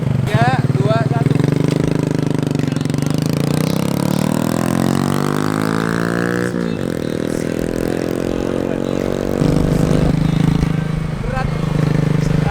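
A modified Supra X 125 street cub motorcycle engine revs up steadily, pitch climbing for several seconds, then drops and climbs again, loud and close throughout.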